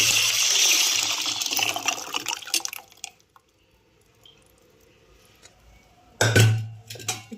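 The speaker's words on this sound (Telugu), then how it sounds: "ఇప్పుడు వాటర్ అయితే యాడ్ చేసేస్తున్నాను" Water pours into lentil soup (pappu charu) in a pot in a splashing gush for the first few seconds, then a quiet lull, followed by another short burst of pouring and dripping near the end.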